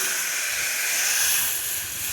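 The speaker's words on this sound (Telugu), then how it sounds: "మెదిపి పెట్టుకున్న పప్పులు అయితే వేస్తున్నాను" Mashed dal (lentils) poured into hot tempering in a pan, a loud steady hiss of sizzling and steam filling the whole moment, close and unbroken.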